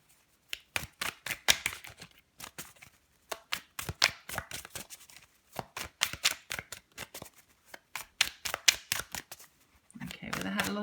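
A new, slippery deck of oracle cards is shuffled by hand in quick rapid bursts of riffling clicks, pausing briefly between runs, close and fairly quiet.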